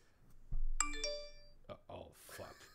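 A phone gives a short bright multi-tone charging chime right after its charger cord is plugged in, ringing out clearly near the mic before a voice starts talking over the room.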